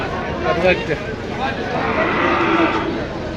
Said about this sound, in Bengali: এই যে একটি দেশাল জাতের সুন্দর ষাঁড় গরু চকলেট কালারের